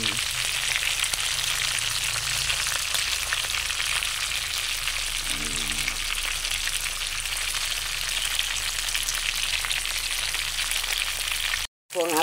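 Tilapia frying in oil in a pan, a loud, dense, continuous sizzle like steady rain that runs unbroken until a brief cut near the end.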